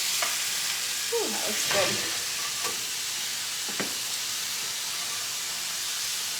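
Asparagus sizzling on a grill pan, a steady frying hiss throughout with a few scraping and clattering sounds as the food is turned, while someone speaks briefly.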